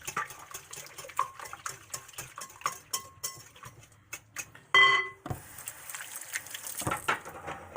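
Garlic is mixed into a frittata mixture with a utensil that ticks and clicks rapidly against the bowl, soft and close. A brief louder scrape comes midway, then the stirring carries on.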